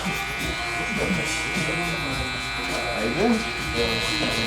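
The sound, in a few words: hair clipper cutting a side taper guideline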